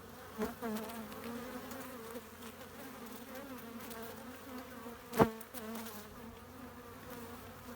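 Honeybees buzz steadily around an opened hive frame full of brood during a colony inspection, a close, continuous drone with a brief louder knock or thump partway through and no talking.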